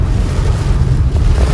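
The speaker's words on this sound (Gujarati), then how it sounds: "ધમધોકાર વરસાદ છે ભાઈ, અને બધા રસ્તા એ પાણી જ છે." Heavy rain pours onto flooded streets in Surat on a Sunday, a loud, dense and steady roar filling the whole clip, with no speech heard.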